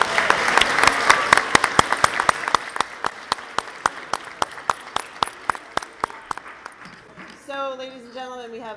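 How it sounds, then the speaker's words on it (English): A school awards ceremony audience claps for the parents, steady loud applause with sharp rhythmic claps that fades out as a voice begins speaking. "can we have a round of applause for your parents?"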